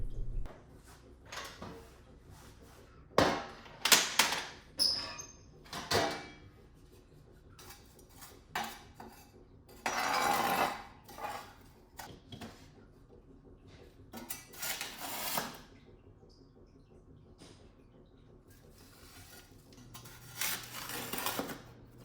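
An indoor wood stove is cleaned out with metal tools: scattered clanks, scrapes and door or grate knocks come in irregular bursts at close range, with quiet gaps between them and no talking.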